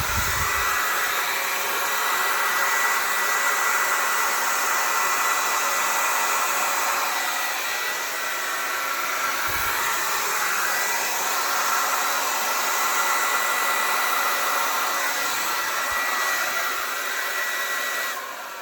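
A hair dryer blows steadily on wet acrylic pour paint, a loud continuous whooshing hum held close throughout with slight shifts in pitch, no talking.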